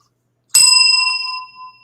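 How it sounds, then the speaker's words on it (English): A bell pressed once, giving a single bright, ringing ding that sounds close and loud and then fades over about a second. "every time he presses the bell before 7 o'clock, I cringe"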